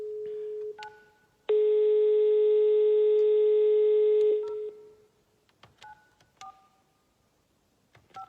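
A telephone call placed to a customer plays a series of short dialing beeps, then a long steady tone for about three seconds, followed by more brief beeps and pauses.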